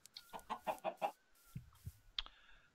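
Chickens on a Minecraft farm give a quick run of four or five soft clucks, then a couple of fainter clucks and a short high chirp, all fairly quiet.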